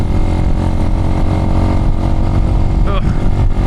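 A Chinese motorcycle's engine drones loud and close while it is ridden over a bumpy road, a continuous rumble with slight surges in the revs.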